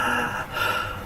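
A voice imitating panicked gasping for breath during an anxiety attack: two sharp, breathy intakes of air close to the microphone, one after the other.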